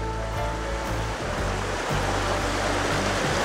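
River water rushes steadily beside a riverside campground, a dense continuous wash of flowing water, loud and close with no voices.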